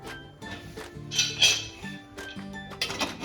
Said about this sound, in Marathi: आपण ह्याला लगेचच झाकण लावणार आहोत